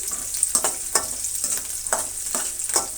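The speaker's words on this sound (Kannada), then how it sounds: "ಕಟ್ ಮಾಡಿಕೊಂಡಂತಹ ಬೆಳ್ಳುಳ್ಳಿ ಶುಂಠಿ ಹಸಿಮೆಣಸಿನಕಾಯಿನ ಸೇರಿಸ್ತಾ ಇದ್ದೀನಿ ಇಷ್ಟೂ ಫ್ರೈ ಆಗಲಿ" Chopped garlic, ginger and green chilies with mustard seeds fry in a pan with a steady crackling sizzle, punctuated by rhythmic stirring scrapes about twice a second.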